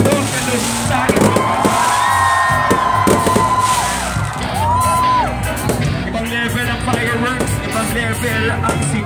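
A large outdoor concert crowd at a show in Noveleta shouts, whoops and cheers loudly and continuously, with bursts of firework crackle and music mixed in.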